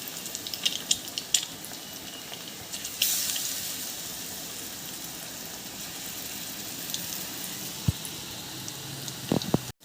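Egg bajji frying in coconut oil gives a steady, dense hiss and crackle that runs unbroken throughout, with a few brief clinks near the end.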